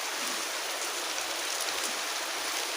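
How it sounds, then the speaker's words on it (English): Heavy rain pours down steadily, a dense, even hiss of drops with no pauses, close and loud throughout with no voices. "we're having a lot of rain here right now"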